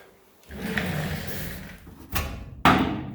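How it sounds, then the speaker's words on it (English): A car door swings shut against a custom-built body panel in a workshop, closing with one solid thud near the end after some handling noise and a brief knock. "you can close the door on it"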